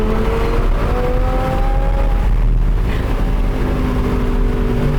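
A supercharged Audi R8 accelerating hard, a loud continuous engine roar with rising whine heard from close inside the car, unbroken and without speech.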